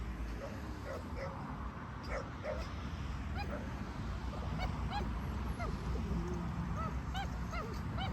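Olaf the dog barks and whimpers at a dog park, a string of short yips and whines over steady outdoor background noise, with a voice faintly in the mix.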